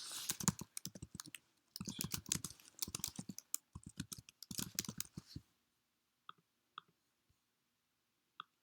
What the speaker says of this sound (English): And I'll go ahead and type that in.